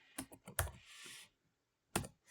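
Short bursts of computer keyboard typing while entering a formula in GeoGebra, a few quick clustered keystrokes, a pause, then one more tap, close and fairly quiet with no talk.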